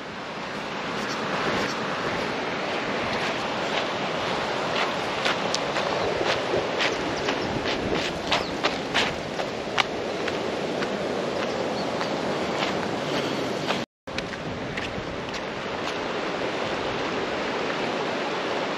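River rapids on a Cape York waterway, a continuous loud rushing and churning of water close by, with wind buffeting the microphone and a brief dropout near the end.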